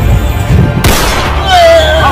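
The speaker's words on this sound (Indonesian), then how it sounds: "Ada yang nembak, bos. Ada yang nembak nih." Gunshots ring out in an Indonesian mafia action short film, with a sharp broadband burst partway through and loud, dense noise continuing under voices afterward.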